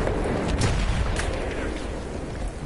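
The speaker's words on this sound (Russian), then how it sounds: "Взрывы." Explosions in Battlefield 1 boom as a dense, low rumbling roar, with sharper blasts cracking through near the start before the din settles into a continuous heavy rumble.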